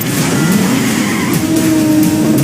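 A car engine revs loudly and close, rising and falling in pitch in quick bursts, with no talk over it.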